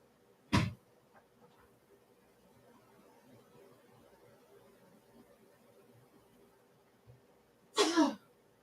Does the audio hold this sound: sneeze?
yes